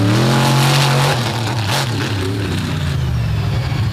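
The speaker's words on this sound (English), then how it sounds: "He's going to give this track everything he's got to try to feel this truck out." A racing truck's engine revs hard on the Bloomsburg track, a loud, close roar with rising and falling pitch as it accelerates, steady and alone without talk.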